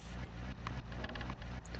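A car engine drones steadily in the game Infection Free Zone, a close, even motor hum with slight pulsing and no talk over it.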